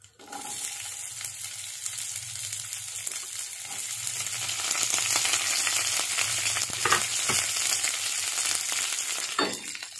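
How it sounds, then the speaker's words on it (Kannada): Chopped onion frying in oil with urad dal for akki rotti gives a continuous, close sizzle that rises a little midway, with occasional scraping stirs and no talking. "ಹಾಗೆ ಈರುಳ್ಳಿ ಹಾಕೊಂತ ಇದ್ದೀನಿ."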